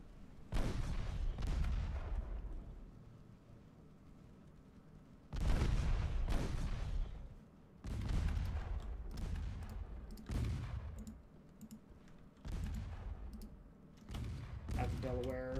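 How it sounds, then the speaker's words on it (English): A battleship's main battery fires in a naval dreadnought video game: heavy, booming salvos roll out one after another at irregular intervals, each blast trailing into a long rumble. "Start landing those main battery hits, boys."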